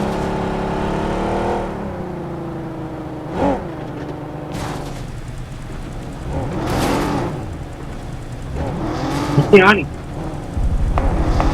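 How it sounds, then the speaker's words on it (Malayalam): Vehicle driven around a military base in a video game, its engine droning and revving with whirring shifts, rising at times, while a voice talks over it. "മിലിറ്ററി ബേസിൽ ഇതേപോലെ വണ്ടി ഓടിക്കണമെങ്കിൽ"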